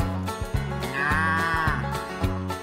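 Livestock bleating from inside a cattle truck, sheep-like calls layered over a rhythmic pulsing engine or music beat, fairly loud and close, with several overlapping cries.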